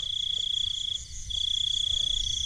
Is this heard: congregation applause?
no